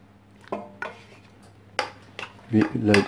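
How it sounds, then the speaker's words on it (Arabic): Lamb meat dropped into a cocotte pot for braising, a few separate clattering knocks of metal and meat landing in the pot, then a louder, longer clatter near the end, close and without speech. "هنا كنجيب الكوكوت ديالي كندير فيها اللحم باش نعطيه طيب مزيان"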